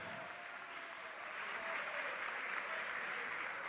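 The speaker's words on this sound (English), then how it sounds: "Can we give a resounding round of applause?" A large audience at a national school quiz final applauds the contestants, dense steady clapping filling the hall and swelling slightly louder midway, with a few faint voices mixed in.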